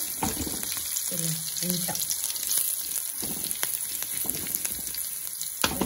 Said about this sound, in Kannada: ಜಾಸ್ತಿ ಫ್ರೈ ಆಗೋದು